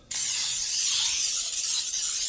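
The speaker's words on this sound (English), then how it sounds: "I need a cooking pan and some spray, or you could just grease the pan." Cooking spray from an aerosol can is sprayed onto a baking pan, a steady close hiss that starts abruptly and runs evenly for about two seconds.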